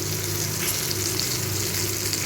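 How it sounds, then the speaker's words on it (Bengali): Chopped spiny gourd (kakrol) fries in oil in a pan, giving a steady, even sizzle close by with no talk over it. "এগুলোকে আমি একটুখানি 2-3 মিনিট ধরে ভালো করে ভেজে নেব"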